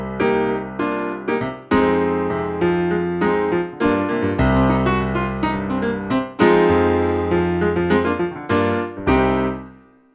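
Funky keyboard chords played in short rhythmic stabs, some landing ahead of the beat, full and resonant with sustained tails.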